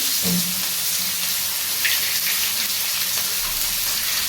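Cumin seeds, bay leaf and chopped onion sizzle steadily in hot oil, a continuous close hiss with a brief faint clink early on and no talking.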